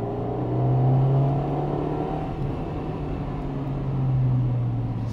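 A 1998 Honda Integra Type R with its VTEC engine drones steadily and closely, swelling slightly in pitch and loudness twice as it pulls, with no voices.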